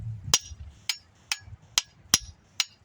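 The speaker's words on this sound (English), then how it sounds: "If you don't have another hammer, you can use a stone." A stone taps on a handmade wooden garden tool handle, giving six sharp, evenly spaced knocks that sound close and clear with no talk.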